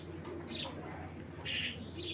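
A pair of white racer pigeons coo softly and give a few chirps nearby, over a steady low background hum.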